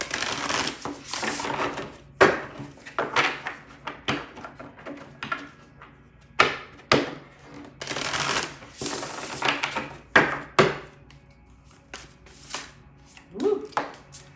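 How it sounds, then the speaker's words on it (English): Tarot cards are shuffled by hand in a series of quick, crisp riffling bursts separated by short pauses, fairly close and clear, with no talking over them. "One more shuffle here."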